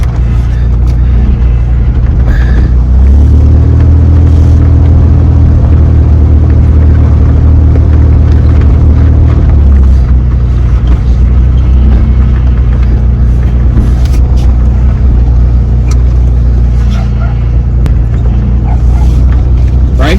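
A 1987 Ford Bronco II engine runs at a high idle, a loud, steady close-up rumble holding for the full stretch, with a brief rise in pitch partway through and no talking.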